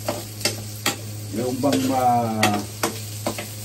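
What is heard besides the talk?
food frying in a pan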